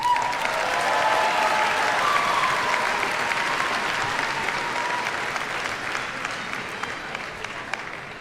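A large crowd claps steadily and densely through the whole stretch, with no break and a slight fade at the end, at a SUNY Oswego commencement ceremony.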